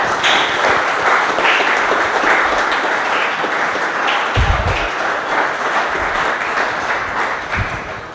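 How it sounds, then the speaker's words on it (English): Steady, dense applause from a crowd, continuous for the whole stretch with a few louder thumps near the microphone. "How about a nice round of applause for both groups?"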